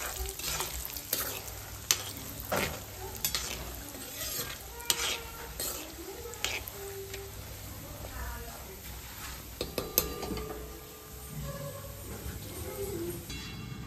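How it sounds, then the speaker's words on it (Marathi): Peanuts fry in oil for corn chivda, a soft steady sizzle with frequent metallic stirring clinks and scrapes of the pan, fairly quiet overall. "शेंगदाणे पण आपण असे छान कडक होईपर्यंत तळून घेणार आहोत"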